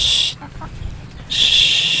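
Desi hens cluck close by in two loud bursts of high, raspy calls at the start and end, separated by a quieter gap with faint movement and a brief voice.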